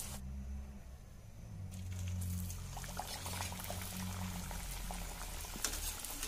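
Oil bubbles and sizzles steadily around holige, a sweet stuffed flatbread, frying in a pan. A busy crackling hiss grows a bit fuller after the first couple of seconds.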